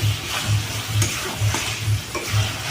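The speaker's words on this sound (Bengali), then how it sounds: "একটু জোরে দিয়ে আমি আবার একটু নাড়াচাড়া করে নেব" Chicken kosha curry being stirred in a pan with oil, giving steady rhythmic scraping strokes about every half second over a continuous close sizzle.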